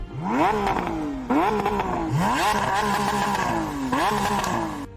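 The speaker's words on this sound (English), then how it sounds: "That V12 engine screaming with 770 horsepower is pure madness" A Lamborghini SVJ's 770-horsepower V12 revs hard several times in quick succession, each rise climbing to a loud howl before dropping back, close and continuous.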